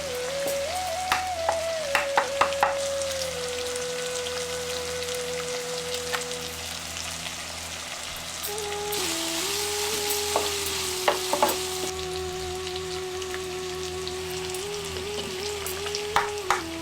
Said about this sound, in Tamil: இப்ப உப்பு சேர்த்து வெங்காயத்தை நல்லா வதங்க விட்டுட்டு